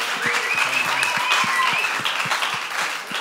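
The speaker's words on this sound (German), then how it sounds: "Geben wir einen riesen Applaus." An audience at a church talk on friendships gives a dense, steady round of applause from start to finish, with a whistle or cheer rising over the clapping.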